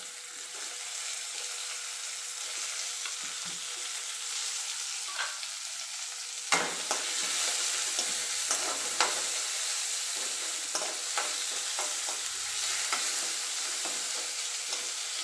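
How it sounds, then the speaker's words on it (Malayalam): Onions and curry leaves sautéing in a pan for a pumpkin masala dosa filling, a steady sizzle under repeated stirring and scraping, with sharper stir clatters in the second half and no talk. "ഒന്നിങ്ങനെ വഴറ്റിയാൽ മതി കേട്ടോ"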